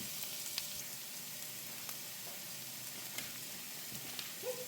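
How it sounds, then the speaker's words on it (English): Vegetables sizzle in a frying pan with a quiet, continuous crackling hiss, dotted by small pops and spits, heard close and alone. "Just love the smell of vegetables in the frying pan"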